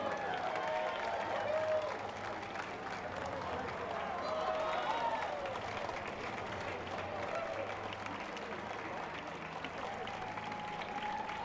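A parade crowd at the Strolling of the Heifers applauds a national twirl team, a sustained outdoor wash of clapping and crowd noise with an announcer talking over it throughout.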